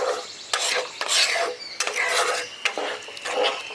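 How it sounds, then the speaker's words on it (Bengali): A spoon stirs salt into carrot suji halwa in a metal pot, producing several close, bright scraping strokes in irregular bursts with brief pauses between them and no voices. "লবণটা দিয়েও ভালো করে মিশিয়ে দিলাম"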